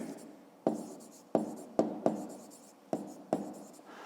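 A hand writes out a fifth-grade maths exercise, giving a string of quick, separate pen strokes and taps spaced a little apart, soft and close.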